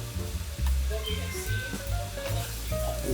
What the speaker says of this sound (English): okay, so now I'm gonna sort of roast the rice